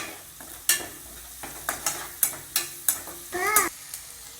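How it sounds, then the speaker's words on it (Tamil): Onion sautés with salt in a pan for idli upma, a soft sizzle punctuated by repeated spatula scrapes and stirring strokes in a quick, regular rhythm, close and clear. "வெங்காயம் நல்லா வதங்கிடுச்சு."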